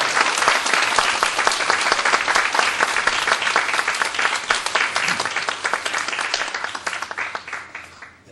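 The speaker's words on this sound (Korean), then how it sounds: "우리 총장님 나오실 때 우리 박수로 우리 환영하겠습니다" A church congregation at a deaconess ordination service welcomes a guest university president with loud, steady applause that holds strong, then thins into scattered individual claps as it dies away.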